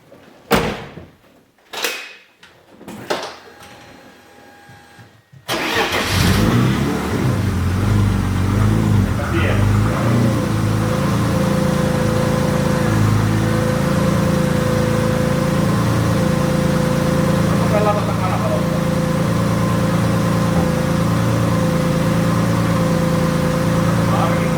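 A BMW E30 is started and driven off: a few door slams and clunks come first, then the engine fires and settles into a steady, loud running drone that continues to the end.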